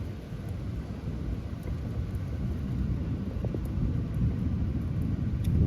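Rolling thunder from an isolated thunderstorm makes a low, continuous rumble that swells and fades without a break, with no rain or talking heard.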